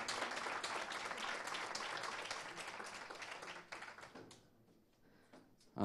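Applause from the audience at an award ceremony, a dense wash of clapping that holds for about four seconds, then thins out into a few scattered claps and fades, with a brief louder burst at the very end.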